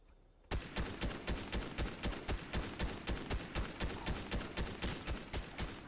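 Ranger assault rifle fired in Fortnite, a sustained burst of rapid, evenly spaced loud shots with a sharp start, close and alone with no talk.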